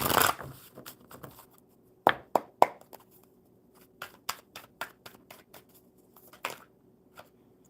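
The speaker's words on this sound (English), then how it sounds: "One more good shuffle for Raymond." Soft, intermittent riffling and tapping of tarot cards being shuffled, with short bursts and quiet pauses between them.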